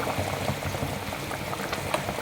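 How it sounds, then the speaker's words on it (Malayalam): Sardine curry boils vigorously in a pot, a close, busy stream of bubbling pops and gurgles without pause. "നമ്മുടെ മത്തിക്കറി വെട്ടി തിളക്കുന്നുണ്ട്"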